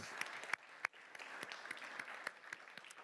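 Sparse, distant applause from a State of the City audience welcoming a representative, scattered individual claps with a few sharp, close ones over a quiet background.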